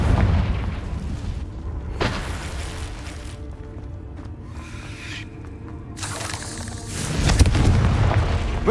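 Blasting spell explosions boom in Hogwarts Legacy, with several heavy detonations and crackling bursts near the start, middle and end, separated by quieter rumbling game ambience.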